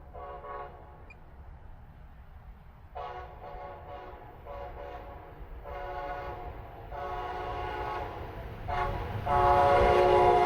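A northbound Brightline train with a wrap livery passes the Michigan Street grade crossing in Fort Pierce, Florida, sounding its horn in several bursts that grow longer and louder as it nears, ending in a sustained close blast over wheel rumble.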